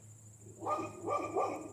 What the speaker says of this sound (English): Pardon the dog, don't know what she's hearing.